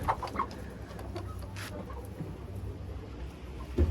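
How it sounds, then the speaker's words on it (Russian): A hen clucks in short, scattered calls close by, with faint rain-like hiss behind and a soft thump near the end. "Опять эта курица."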